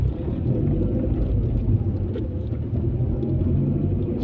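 A car drives through city streets at night in Kostanay, producing a steady, dense low rumble of engine and road noise from inside the cabin, continuous and unbroken, with no voices.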